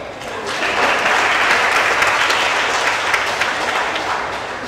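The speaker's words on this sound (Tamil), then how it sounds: "இந்த இடத்துல நல்ல கை தட்டணும்." An audience at a Chennai conference on sustainable waste management bursts into loud, sustained clapping that swells in quickly, holds steady for several seconds and tapers slightly at the end.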